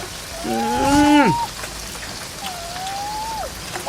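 Rain patters steadily in the background while a lowing cow calls loudly near the start, followed by a second, softer call.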